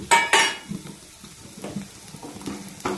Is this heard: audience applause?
no